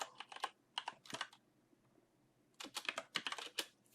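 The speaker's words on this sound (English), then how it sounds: "So I'm just going to firstly type in prayer journal." Someone types on a computer keyboard in quick, close bursts of clicking keystrokes, pauses in near silence for about a second, then starts another brisk run of typing.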